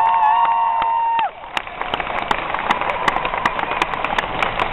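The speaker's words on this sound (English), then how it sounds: "I think they deserve a great big round of applause for coming up here" Audience applause for volunteers at a stage hypnosis show, a dense steady clatter of many hands filling the room after a short sustained tone cuts off, continuing at even strength to the end.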